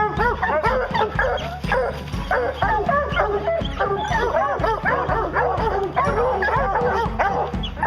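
A dog barks and yips rapidly and repeatedly, loud and close, a dense run of excited barks with whimpering edges lasting the whole stretch.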